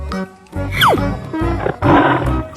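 A tiger roars in a 3D cartoon animal slide game, a short rough growling roar layered over loud, upbeat, rhythmic game music.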